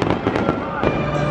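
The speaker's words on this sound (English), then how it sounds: "All right, fireworks ended" Fireworks at Universal Orlando, a quick run of close, sharp bursts and crackles that pop repeatedly over about a second.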